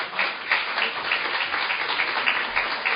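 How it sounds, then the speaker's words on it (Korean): Continuous, dense applause fills a hall as an audience at a Korean Democratic Party members' event welcomes the next speaker. The clapping stays steady and fairly loud throughout. "큰 박수로 맞이해 주시기 바랍니다"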